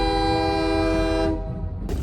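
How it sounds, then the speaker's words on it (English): A loud train horn blares in long steady tones close by for over a second, then cuts off, leaving the low rumble of the passing train, with a brief burst of noise near the end. "you might see there's a train coming"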